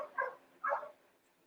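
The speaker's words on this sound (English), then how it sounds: "There's a dog barking." A dog barks twice nearby, two short separate woofs about half a second apart, faint and indoors-sounding.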